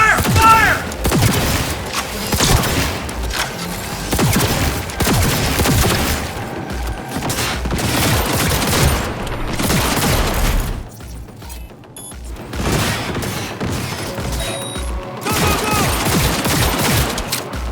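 Heavy gunfire in Cyberpunk 2077: dense automatic bursts and single shots rattle almost nonstop, with booms and brief lulls, loud and close, while shouting voices break through now and then.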